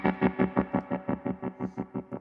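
Electric guitar runs through a Stone Deaf Tremotron analog tremolo pedal, a distorted sustained tone chopped into a fast, even pulsing throb, about six beats per second, close and alone.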